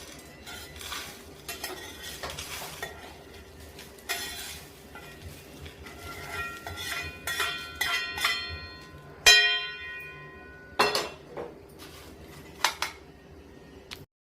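Roasted biryani masala spices are scraped and stirred out of a hot pan onto a plate, with repeated metal utensil scrapes, clinks and light sizzle, including a few sharp louder clanks near the end.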